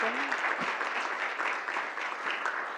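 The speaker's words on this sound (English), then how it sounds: "I want to definitely thank a round of applause for Jesse and Jennifer for a great presentation" Seminar attendees applaud two presenters after a talk on water management in Nebraska; the dense, steady clapping briefly overlaps a voice at the start.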